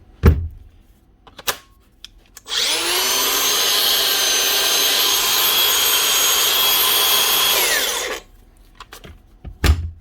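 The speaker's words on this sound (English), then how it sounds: "One Makita grinder up and running again." A repaired Makita DGA463 cordless angle grinder whirs up to speed with a rising whine, holds a loud, steady high-pitched run for about six seconds, then spins down, with a few handling clicks before and after.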